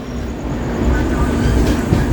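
The Mangaluru Mumbai Superfast Express rolls into Panvel station with a loud, steady rumble of rail wheels and clattering carriages, heard close from inside the moving train.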